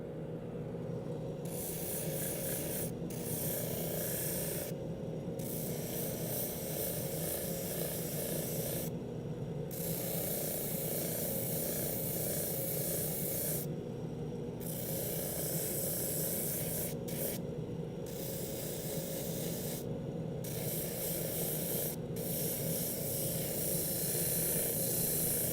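Sandpaper of 150 grit rubbing steadily over intarsia wood, a continuous close raspy scrubbing broken by several short pauses, with no talking.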